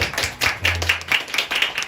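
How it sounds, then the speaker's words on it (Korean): A church congregation claps in a quick, even burst of hand claps, close and fairly loud, with no talking over it. "우리 임원들에게 한번 수고했다는 격려의 박수."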